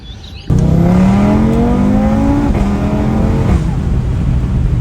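An Audi RS3 engine roars up through the revs in one hard, sustained pull, loud and close, the pitch climbing steadily before easing slightly.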